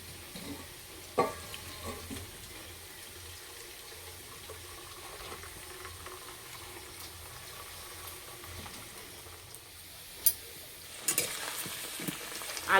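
Potatoes frying in mustard oil in a wok until reddish, a low, steady sizzle with occasional stirring scrapes and a few sharp clanks near the end, moderately quiet and without talk.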